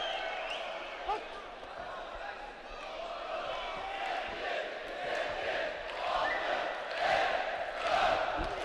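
Arena crowd at the Heydar Aliyev complex in Baku roars and cheers as a boxing bout at the 2011 AIBA World Boxing Championships ends, the noise swelling toward the close beneath a commentator talking throughout.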